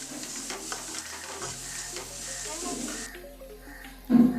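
Noodle vegetables with carrot and beans are sautéed in a pan, a low steady sizzle with stirring scrapes, and a louder clatter near the end.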